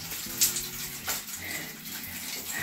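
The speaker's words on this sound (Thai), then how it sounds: "รูมันเล็กแต่มันน้ำแรงแล้วนะ" Water from a small-holed tap fed by a solar-powered pump sprays out hard, a steady close rushing hiss that holds throughout, loud and unbroken, with no voices over it.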